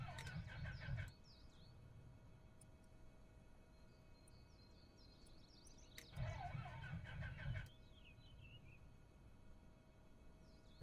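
A Piper 28-236 Dakota aircraft engine cranks in two low rumbling bursts, about a second and then a second and a half long, separated by a quiet pause, with birds chirping in the background.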